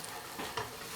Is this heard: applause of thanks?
no